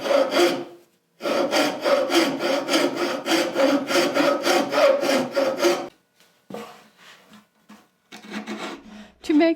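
A homemade turning saw cuts a notch in a wooden spatula with a quick, even run of about twenty close rasping strokes, then a pause and a few lighter, irregular strokes.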